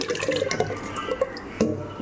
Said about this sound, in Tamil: இப்போ அடுத்தது இந்த வாளியில் ஊற்றிடலாம்.